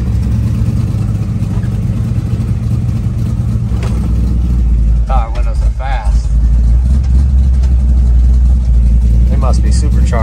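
A supercharged 1963 Chevrolet Impala restomod's engine runs with a steady, loud low rumble throughout, with people talking over it.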